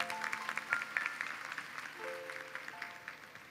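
A seated audience at a gurukul founding-day debate gives the swami a round of applause, quiet and somewhat distant, swelling briefly before thinning out.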